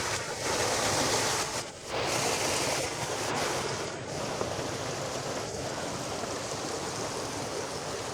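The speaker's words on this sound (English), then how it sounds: "the waterfall flows down from right here" Rushing water roars steadily and loudly, a constant broadband wash of falling water with no voices.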